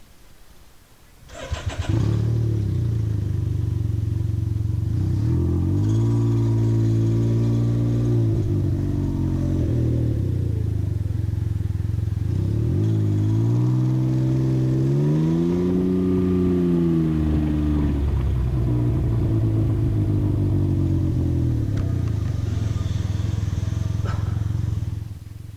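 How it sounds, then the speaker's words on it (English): A Can-Am Ryker three-wheeled motorcycle fires up and runs for a long stretch, its engine and exhaust loud and close, with rising and falling revs as it pulls away and shifts on a ride to work. "Let you listen to the engine a little bit or exhaust a little bit more there."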